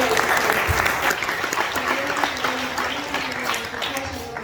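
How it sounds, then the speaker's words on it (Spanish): A church congregation at a Sunday school service claps as an offering to God, loud and sustained, with a voice carrying a held tone over the clapping. "Regalamos ofrendas de palmas al Padre"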